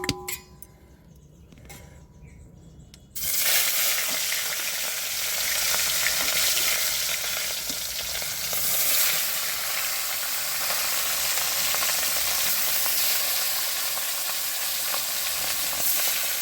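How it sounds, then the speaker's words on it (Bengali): Fish frying in hot oil in a wok: a quiet start, then a sudden loud, dense sizzle as the fish goes in, holding steady and crackling close up for the rest of the time. "তেলটা হয়ে গেছে, এবার মাছগুলো দিয়ে দেব"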